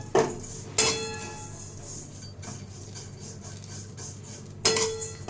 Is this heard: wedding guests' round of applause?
no